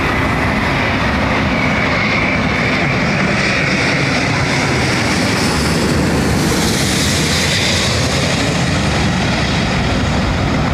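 A jet airliner at London Heathrow Airport roars loudly and steadily, a broad continuous engine rumble filling the whole stretch with a slight swell in the middle, no voices over it.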